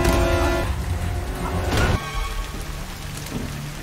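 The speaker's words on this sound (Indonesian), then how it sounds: "Dalam gelap malam, hujan turun deras." Heavy rain pours down at night in a film scene, a dense steady hiss that swells louder for a moment near the middle before settling back to a constant downpour.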